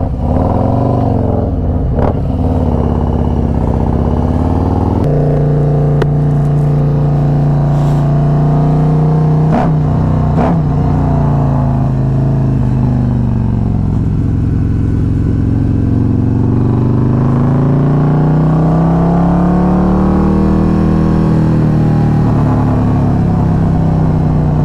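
Two Harley-Davidson motorcycles, a stage 2 Road Glide 107 and a stock Low Rider ST 117, rumble loudly up close with a deep idle and repeated throttle revs that swell and fall, no talking.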